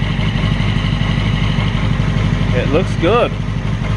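A rebuilt third-generation Yamaha R6 motorcycle idles close by with a steady, even mechanical hum, while someone speaks briefly over it.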